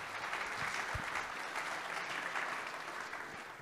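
Steady audience applause fills a university lecture hall at an opening session, a dense continuous patter of many hands clapping throughout, fairly close and even in loudness.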